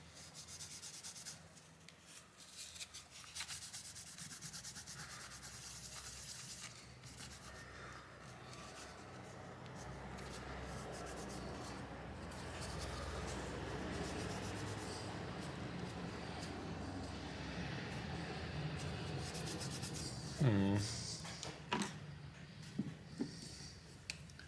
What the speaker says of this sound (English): We'll go over here, just give this a wipe up.